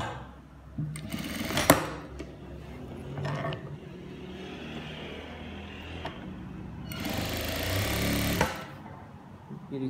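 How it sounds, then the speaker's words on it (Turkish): Domestic sewing machine topstitching palazzo trousers a millimetre or two from the edge, running in a few loud whirring bursts separated by quieter pauses, close up with no talking. "Bir iki milimden üst dikişimi çekiyorum"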